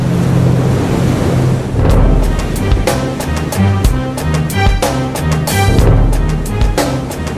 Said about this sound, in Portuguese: Em alto mar, navios e plataformas conectados a poços de petróleo são castigados incessantemente por ondas, ventos e correnteza.